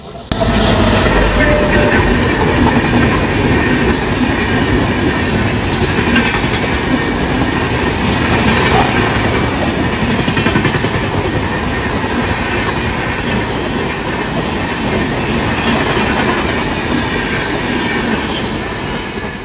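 A train passes by on the railway track, loud and close, its continuous rumble and rhythmic wheel clatter filling the whole span with no one speaking over it.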